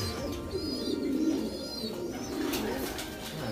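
Soft, low pigeon cooing repeats in gentle rolling phrases, fairly close, with faint background noise and no talking.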